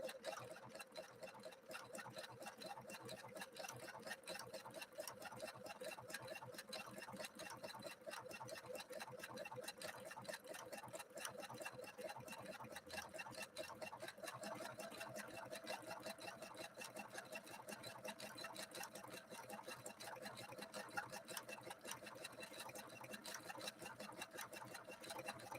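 A Husqvarna Viking sewing machine stitches continuously, a faint rapid even needle chatter sustained throughout without pause.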